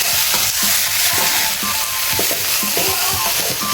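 Fish roe frying in a pan while being stirred, a constant loud sizzle with soft scraping and clacking of the spatula against the pan close up.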